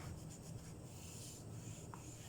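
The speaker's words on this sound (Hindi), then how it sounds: "इस ग्राफ या डायग्राम को मैं इरेज कर देती हूँ" An eraser is rubbed across a board to wipe off a diagram during a physics lesson, giving a soft, continuous scrubbing rasp that runs steadily and quietly throughout with no talking.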